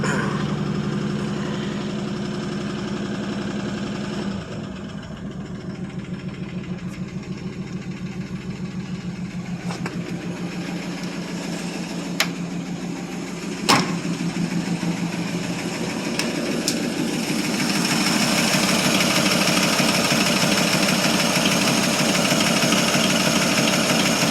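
A 1947 Ford Super Deluxe with a flathead V8, cold-started after sitting two years, runs steadily with a low rumbling idle that grows louder and rougher toward the end as the engine revs up.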